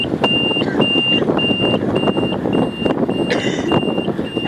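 An Eddie Stobart truck reversing a trailer through a tight cone course gives steady, evenly spaced reversing beeps over a loud diesel engine rumble, with no talk.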